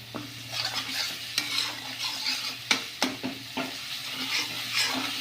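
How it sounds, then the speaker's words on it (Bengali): Spices fry in a pan on a Bengali home stove as a spoon stirs them, giving a steady sizzle broken by repeated scraping strokes and light clinks against the metal, close and fairly loud. "এটা ভালো করে কষানো হোক"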